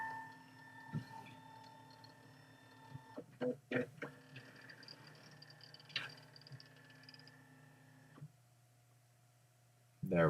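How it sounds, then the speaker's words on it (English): An office printer runs steadily beside a computer desk, a mechanical whir with periodic clicks and short bursts of feeding noise before it cuts off near the end; faint background hum remains. "There's that printer again."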